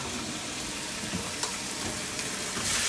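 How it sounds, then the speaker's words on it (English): Bite-size cubes of chicken breast sizzle in about two tablespoons of hot oil in a skillet, a continuous close crackling hiss with small pops and a brief stirring scrape, heard alone. "you can hear the chicken immediately start to sizzle"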